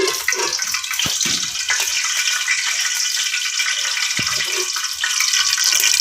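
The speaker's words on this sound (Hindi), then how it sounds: "चलते हैं जी, मछली को फ्राई करते हैं।" Fish fries in very hot ghee, a steady loud hiss and sizzle that holds throughout with a few faint knocks underneath and no talking.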